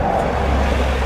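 Road traffic at peak time beside a Polish road, a continuous loud rumble and roar of cars passing close, steady and dense with no pauses or talking.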